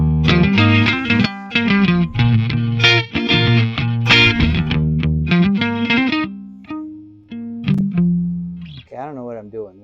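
Electric guitar through a Friedman amp channel with no effects, played as a run of compressed, driven chords and single notes, loud and close, with the last phrases thinning into sustained notes and a short bent figure.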